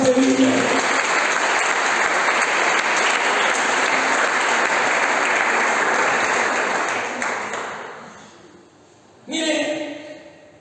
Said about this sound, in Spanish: Fuerte el aplauso al que vive.